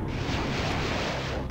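Missile explosion in the MechCommander video game, a loud, dense roaring blast that fills the whole moment with sustained broadband rumble and crackle, no talk over it.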